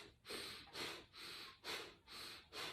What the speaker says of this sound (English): we're gonna be breathing through the nose and out through the nose and through our core